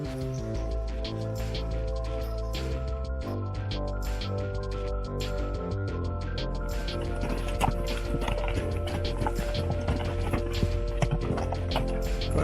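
Mule hooves clop over a rough Grand Canyon trail at a steady walking pace, with rustling and scattered knocks, a busy outdoor rumble running underneath.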